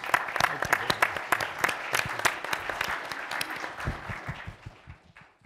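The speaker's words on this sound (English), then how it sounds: "If I could kindly ask you to join me in a round of applause for our speakers." Audience applause for panel speakers at the close of a foreign policy discussion, dense steady clapping for about four seconds before tapering off, with a voice speaking over it.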